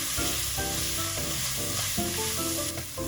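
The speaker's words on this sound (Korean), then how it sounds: "야채의 수분기가 모두 날아갈 때까지 골고루 잘 볶아줍니다." Beef and vegetables stir-fry in a pan, a steady loud sizzle with scraping stirring strokes from a utensil, cooking until the vegetables' moisture cooks off, with no talking.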